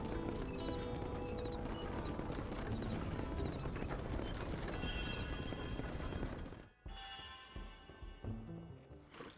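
Horses galloping in the video game Red Dead Redemption: dense, continuous clip-clop of hooves with music and ambience underneath, broken by a brief drop before the galloping resumes.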